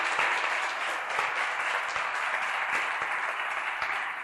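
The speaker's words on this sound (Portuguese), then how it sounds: "Então, quero uma salva de palmas para esse grupo." An audience at a national meeting of city officials on urban resilience gives a group a round of applause, dense and continuous clapping from many hands at a steady loud level for the whole stretch.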